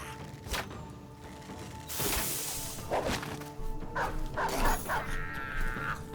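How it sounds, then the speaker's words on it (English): A dog barks outdoors, muffled and at a distance, in a few short bursts over a steady background hum with clicks and knocks from nearby. "I can hear my dog barking outside"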